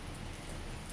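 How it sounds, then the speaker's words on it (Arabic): Outdoor rain falls in a soft, even hiss, faint and steady for about a second with no other sounds standing out. "شتا"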